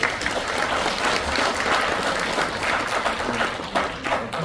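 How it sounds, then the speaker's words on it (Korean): Steady applause from an audience at an academic conference, a dense wash of clapping held evenly for several seconds with no talk over it. "박수 다시 한번 부탁드립니다."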